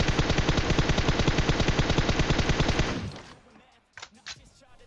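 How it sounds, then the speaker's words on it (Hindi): Sustained rapid automatic gunfire from a machine gun in PUBG Mobile rattles loudly for about three seconds, then stops, leaving quiet broken by a couple of distant shots. "लेकिन गोली चलाना रोकता नहीं"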